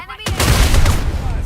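Gunfire in the shooter video game FragPunk cracks in a sharp, loud burst followed by a rapid rattle of shots and echoing booms, close and forceful.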